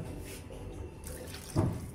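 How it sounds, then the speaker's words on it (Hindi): Water poured into whisked yogurt in a bowl while making a desi besan dahi curry, a steady running-water wash with a brief louder splash near the end, close and alone. "इसमें भी हम थोड़ा सा पानी डालेंगे।"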